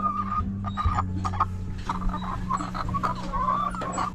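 A flock of RTL chickens clucks and murmurs nearby in a steady, overlapping chatter, with occasional sharper squawks rising above the low, continuous cackling.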